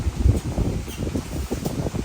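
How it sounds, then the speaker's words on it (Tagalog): Strong wind gusts outdoors around a hydroponic lettuce growing area, making a steady, close, rumbling roar with buffeting on the microphone and no voices. "masyadong mahangin sa labas"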